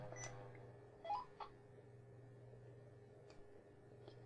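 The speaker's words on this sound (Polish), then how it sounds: "Coś mi tutaj piknęło." PMR radio gateway equipment gives a short, faint electronic beep over a steady low mains hum, with a few soft clicks around it.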